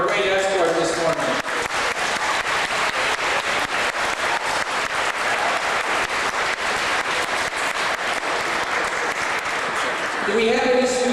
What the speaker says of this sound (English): let's give a big round of applause to the Welland Police Department for a great escort this morning